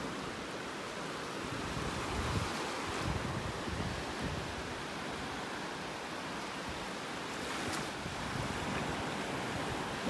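Ocean waves wash onto a beach on a windy morning, a steady broad roar of surf with gentle swells and no voices.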